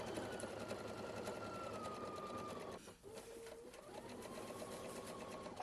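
A steady, fast mechanical whir of an all-in-one sewing and embroidery machine stitching, continuous and close, with a brief dip in pace midway before it resumes.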